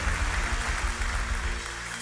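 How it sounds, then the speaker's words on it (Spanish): A church congregation applauds the Lord during a sermon, a continuous wash of clapping with a low rumble of crowd noise beneath, steady and fairly loud throughout. "¿Cuánto le da un aplauso al Señor?"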